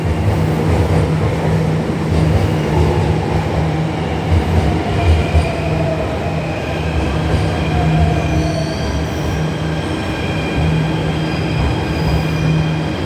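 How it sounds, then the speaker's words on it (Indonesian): A Jakarta MRT train arriving at Blok M BCA station rolls steadily in, its continuous rumble and rail noise mixed with faint squealing wheels and a steady mechanical hum. "MRT Jakarta dari arah Lebak Bulus sudah datang"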